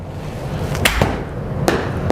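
A golf club strikes the ball on a short practice shot, giving a sharp close click among a few light taps, all over steady outdoor background noise.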